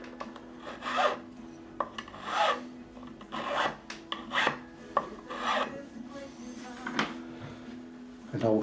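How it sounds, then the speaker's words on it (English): Steady back-and-forth rasping strokes of a file across a fret on a 1979 Fender Stratocaster during a re-fret, close and fairly loud, with short pauses between passes. "I shall do the other side of the same fret, always wiping the file."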